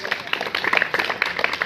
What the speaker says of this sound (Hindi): जोरदार ताली के साथ स्वागत किया गया